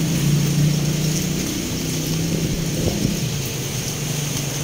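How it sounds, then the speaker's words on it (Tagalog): Heavy rain pounds steadily around a parked car during a grocery trip, with a constant wash of noise and low rumbling that suggests distant thunder. Nobody talks. "Ang lakas na ng ulan."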